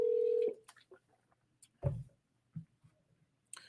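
Telephone keypad tones and a dial tone sound while calling a homeowner: a steady tone that cuts off after half a second, then scattered faint beeps and clicks, quiet and close.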